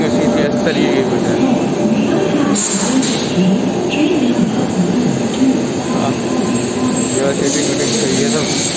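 Indian passenger train running from Delhi toward Amritsar Junction, a steady loud rumble and rattle from inside the carriage with continuous roar throughout, people talking faintly over it.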